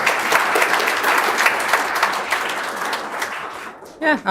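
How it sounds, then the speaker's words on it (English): An audience applauds a presenter introduced for a ransomware response talk, steady dense clapping filling most of the stretch before tapering off, with a voice starting to speak at the very end. "Let's give him a round of applause as he presents the topic"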